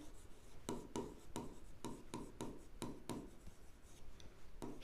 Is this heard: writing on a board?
yes